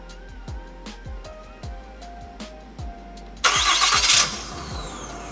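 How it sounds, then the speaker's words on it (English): A truck engine with a FASS fuel pump is cranked over. Steady starter clicks lead to a sudden loud catch, a brief roar and then a settled idle. "start the truck up."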